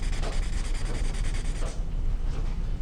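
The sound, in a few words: pencil drawing being blended by rubbing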